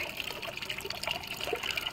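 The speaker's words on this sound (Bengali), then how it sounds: "জলটা ছেড়ে দিই জলটা পড়তে পারি" Water poured from a mug while bathing, a continuous close trickling and splashing at low level, with no talk.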